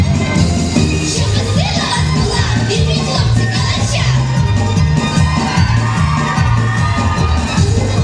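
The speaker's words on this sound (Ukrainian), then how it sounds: "Глядачі з радістю дарували виконавцям шквал оплесків та вигуки Браво за яскраві виступи." A festival audience at a choreography contest roars with cheering and shouting over sustained applause, loud and dense throughout, with rhythmic dance music pulsing underneath.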